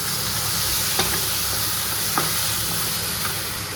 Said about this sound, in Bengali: তো কাঁকড়া দিয়ে দিয়েছি, এবার এটার সাথে একটু কষাবো